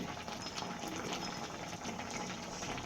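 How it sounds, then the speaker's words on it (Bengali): Pasta boiling in a pot of water, a faint, steady bubbling and rolling simmer with no pauses. "পাস্তাটা সিদ্ধ হোক"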